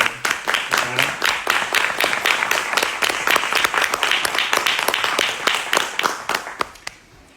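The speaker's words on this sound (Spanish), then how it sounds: "Un aplauso a Miguel." A small audience at a book presentation in a conference hall claps, a close, sparse run of distinct individual claps in a quick uneven rhythm that tapers off at the end.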